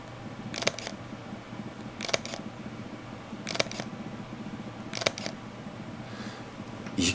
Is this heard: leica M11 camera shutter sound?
yes